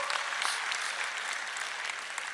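An audience at a leadership talk breaks into brief, even applause, a dense patter of many hands heard from a moderate distance with no voices over it.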